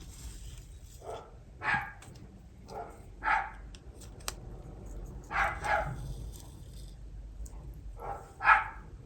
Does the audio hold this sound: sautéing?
no